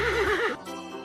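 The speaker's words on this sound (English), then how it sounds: "Horse." A horse lets out a single quavering neigh, loud and near, trailing off into a softer snort.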